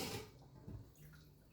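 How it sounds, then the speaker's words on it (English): Water pours and splashes as cooked chicken feet drain in a colander, a brief close rush that fades into a quieter trickle. "so I am going to drain it in a colander"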